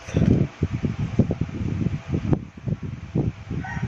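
An electric exhaust fan hums while struggling to spin, a steady drone broken by irregular rattling pulses and knocks close to the mic, with no talk.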